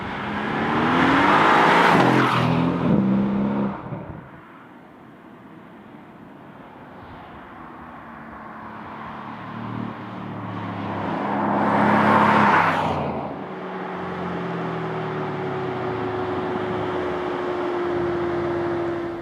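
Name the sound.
Mercedes-AMG C63 S Coupé engine at full throttle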